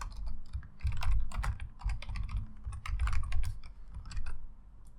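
Fast, uneven clatter of typing on a computer keyboard, with bursts of close keystrokes and short pauses, recorded quietly with no voice.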